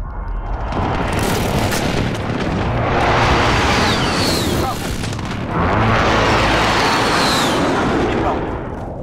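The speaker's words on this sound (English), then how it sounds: "Enemy precision airstrike inbound." Heavy explosions from an enemy precision airstrike in a Call of Duty match, two long roaring blast swells filling the clip with rumbling debris, loud and close, with faint game voice callouts underneath.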